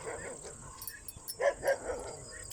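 Two dogs at a neighbouring house, heard during a walk. There are a few short barks and yips at middle distance, clustered in the second half over quiet outdoor background noise.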